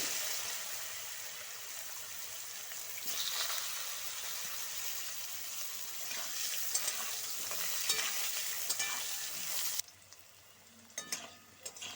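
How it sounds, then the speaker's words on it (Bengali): Continuous crackling sizzle of green plantain frying in hot oil, with occasional stirring scrapes; the sizzle quiets abruptly near the end. "এবার আমি কাঁচকলা ভেজে নেব দিয়ে দিচ্ছি কাঁচকলা"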